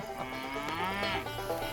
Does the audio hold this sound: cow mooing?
yes